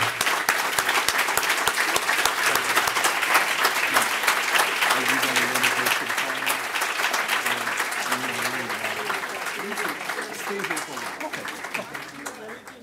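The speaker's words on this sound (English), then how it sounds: "Let's give Ambassador Zhong another rousing round of applause." An audience at a lecture bursts into sustained applause, steady and dense at first, then slowly thinning toward the end, with a voice speaking over the clapping.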